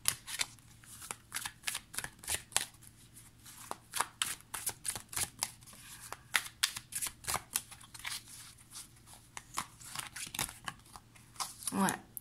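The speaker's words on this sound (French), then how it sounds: "Je vais recouvrir certaines cartes." Tarot cards are handled and laid down to cover others in a quick series of close, crisp snaps, slides and soft paper flicks repeating irregularly throughout.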